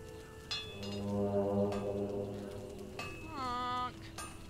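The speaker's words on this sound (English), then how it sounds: "someone's blowing the horn" A horn blown in the video game Conan Exiles sounds a long, low, droning blast with rich harmonics, then a shorter wavering call follows, fairly loud over a steady background.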